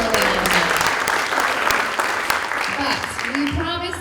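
Sustained audience applause at a Franklin County Chamber of Commerce breakfast, a full room clapping steadily and loudly throughout, with some crowd voices rising near the end.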